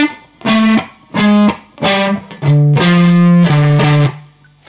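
Loud distorted electric guitar plays a choppy riff of separate notes, repeated twice, then a longer sustained note, with short pauses between phrases.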